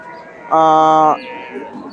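A single loud, clear moo from a cow bursts out for about half a second at a busy cattle market selling cows and calves, over faint background crowd noise.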